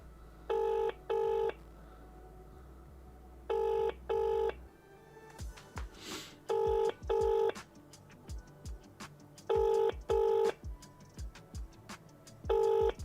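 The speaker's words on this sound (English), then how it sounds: "Yeah, landline ringing." A landline phone rings in repeated double bursts, fairly faint, with clattering and thumping noises in between.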